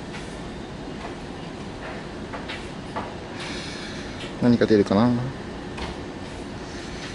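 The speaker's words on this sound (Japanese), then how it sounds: "さあ9時発の列車が入ってきたので" A Kotoden Kotohira Line train pulling into a station, low rumble and a brief burst of squealing brakes or chime tones, with someone speaking nearby.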